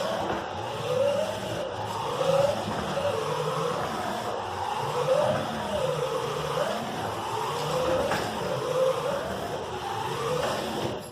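A featherweight combat robot drives around, its electric drive motors giving a continuous whining hum that rises and falls in repeated sweeps as it turns and accelerates, close and fairly loud for the whole stretch without speech.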